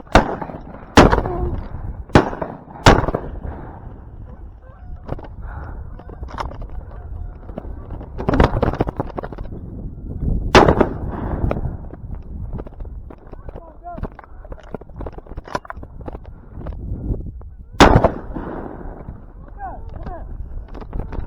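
Shotgun blasts on a public goose hunt ring out as several sharp reports, some in quick pairs and one isolated later, amid outdoor noise and people talking.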